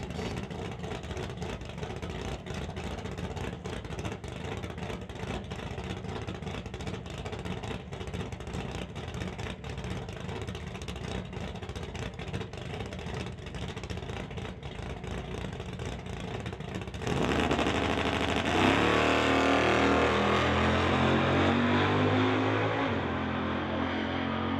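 A drag racing car at an NHRA Summit ET Series event makes a partial pass, not under full power, a steady engine drone that swells abruptly into a louder, rising roar near the end.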